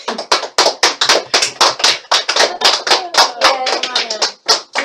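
An audience claps steadily after a persuasive speech, a dense run of close, sharp handclaps lasting several seconds and then tapering off, with a faint voice underneath near the end.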